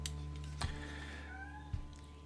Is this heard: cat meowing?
yes